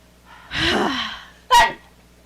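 One person's sneeze, close and clear: a drawn-in gasping breath builds for about a second, then a short, sharp burst of air, followed by quiet.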